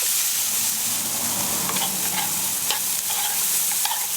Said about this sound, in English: Let that saute away for about 5 minutes.